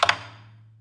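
A quick pair of sharp, woody clicks on the rim of a Chinese drum, close up, followed by a faint low hum that fades out.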